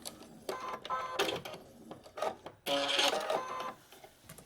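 A sewing machine runs in short bursts while locking stitches on quilt corner segments, with a brief pause before a longer, louder run; close and fairly quiet, no talking.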